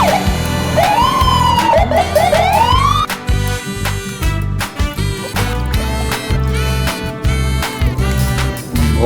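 A toy police car gives off a loud, close wailing siren that sweeps up and down, followed by a busy run of electronic tones and sound effects from the toy that continues to the end.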